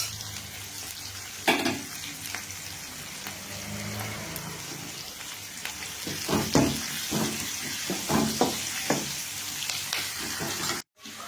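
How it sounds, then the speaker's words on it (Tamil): Onions sauté in a pan with a soft continuous sizzle, punctuated by scraping and stirring clatters as they are moved around, close and moderate in level with no talking. "பாருங்கள், வெங்காயம் நல்லா வதங்கிடுச்சு"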